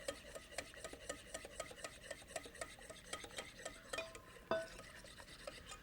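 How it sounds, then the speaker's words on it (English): A whisk beats egg yolks with sugar syrup in a bowl, making a quiet, steady rhythmic scraping and rubbing with a sharper clink near the end, without voices. "Now you can start beating it in a little faster."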